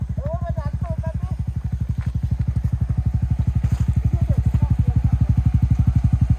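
Honda CRF250 dirt bike engine running with a steady, fast, throbbing beat, loud and close, the rear wheel spinning freely, with a voice briefly speaking over it.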